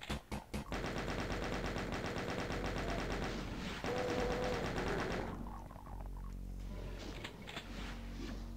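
Rapid continuous chaingun fire from Doom 2, loud and sustained for about five seconds with a pause and a pickup chime, then quieter scattered gunfire and game effects.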